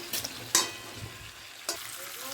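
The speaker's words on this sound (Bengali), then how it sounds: "কচু আলু একসাথে দিয়ে ভালো করে একটু কষিয়ে নেব" Taro and potatoes frying in a spice paste for a rohu fish curry: a low, continuous sizzle with a few sharp spatula scrapes standing out, close by.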